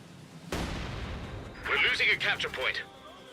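A heavy gunshot at a shooting-practice target in Company of Heroes 2, one sharp booming blast followed by a rolling tail, then someone speaking over it.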